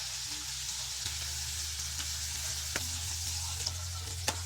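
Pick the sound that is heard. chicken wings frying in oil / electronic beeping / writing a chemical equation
chicken wings frying in oil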